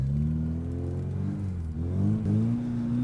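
A Zhiguli drift car drives a figure eight, its engine droning and rising and falling in pitch as the throttle is worked through each turn, loud and close throughout.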